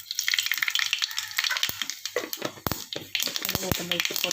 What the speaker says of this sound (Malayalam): എണ്ണ അങ്ങ് ചൂടായി ശ്രദ്ധിച്ചില്ലായിരുന്നു ഇങ്ങനെ ചൂടായിപ്പോയി അതിന് നമുക്ക് കടുക് ഇട്ട് കൊടുക്കാം